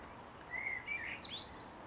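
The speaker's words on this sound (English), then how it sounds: "There's a blackbird serenading us at the moment." A blackbird sings outdoors in a garden, a few clear whistled phrases at moderate distance over a steady background hiss, with no talking.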